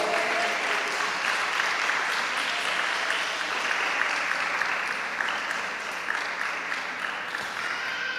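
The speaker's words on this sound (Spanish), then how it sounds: "denle un aplauso a él" A church congregation applauds during a sermon, sustained dense clapping from a large crowd that holds steady and loud the whole way through, with no talking over it.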